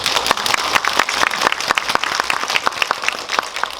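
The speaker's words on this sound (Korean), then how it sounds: "박수 쳐주세요." A cinema audience in a large screening hall applauds at a film talk event, steady, close clapping with sharp individual claps standing out throughout, no voices over it.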